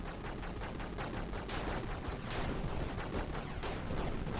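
Pistol fire in the video game Bleed, a dense, loud, continuous volley of rapid gunshots crackling one after another without pause, with no talking over it.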